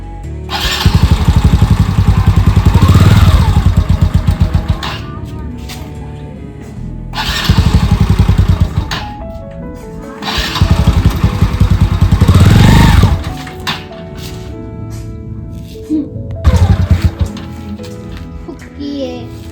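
A motorcycle engine revs up and down in several bursts while a learner works the accelerator, loud and close, with idling between surges and people talking throughout.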